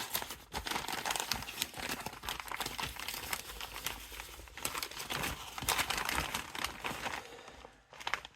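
A plastic mail pouch holding a small parcel of model helicopter parts crinkles and tears as it is opened, close and continuous rustling with sharp crackles throughout, no voice.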